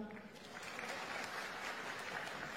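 Audience applause at an Indonesian stand-up comedy show, a steady wash of clapping filling the room for a few seconds, with faint voices mixed in.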